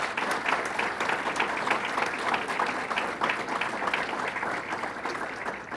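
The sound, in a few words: audience applause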